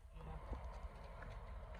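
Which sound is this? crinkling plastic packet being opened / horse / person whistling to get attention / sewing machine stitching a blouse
horse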